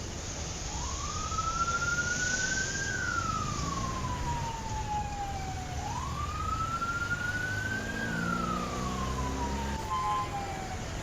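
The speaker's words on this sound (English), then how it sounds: "sirens wailed" Emergency sirens wail through an outdoor urban scene near a shopping mall, two long rising-and-falling sweeps repeating steadily over a constant low traffic rumble, moderately distant and loud.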